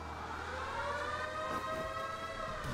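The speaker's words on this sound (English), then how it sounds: "Oh, there's the sound of sirens." Police sirens in the video game Blues and Bullets, a wailing tone sweeping up and down at moderate distance over low background rumble, with no speech.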